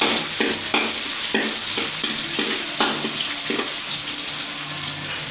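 Garlic and onion fry in a hot pan while being stirred, producing a loud, steady close sizzle with repeated scraping strokes of a utensil and no talk.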